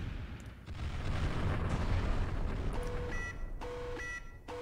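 Artillery barrage in the Final Theory naval battle game, a dense rumbling roll of distant blasts and booms building then easing, with electronic interface tones chiming near the end, no talk.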